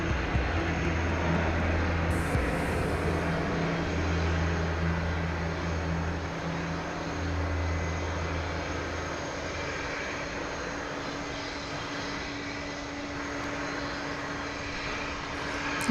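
A Boeing 787-9 Dreamliner arriving from Auckland, New Zealand, rumbles steadily as it comes in to land at DFW Airport, its loud engine roar and low droning tones holding throughout with no talk over it.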